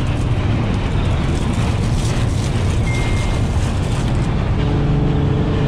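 Wind noise roaring through an unsealed window on an automatic Infiniti G35 coupe while driving, a steady dense rushing hiss with low road rumble underneath, continuous throughout and without talk.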